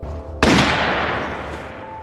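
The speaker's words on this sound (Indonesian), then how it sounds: "Kemudian terdengar suara tembakan sebanyak 3 kali." A single sharp pistol shot in the 2017 film Cargo, a sudden loud crack after a brief quiet rumble, then a long decaying echo that fades out over the following second and a half.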